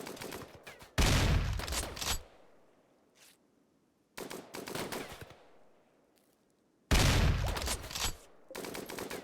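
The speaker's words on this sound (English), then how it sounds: "I love the sound of the anti-mech rifle." Anti-mech rifle gunfire in the colony game RimWorld: three loud, close bursts of rapid shots, each fading into a decaying rumble before near-silent pauses.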